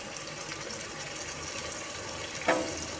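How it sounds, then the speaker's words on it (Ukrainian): Mushroom soaking water pours into a pot of bigos with sauerkraut and meat, a soft steady splashing stream close by, ending with a small clink near the end. "Виливаю воду, в якій мочилися гриби."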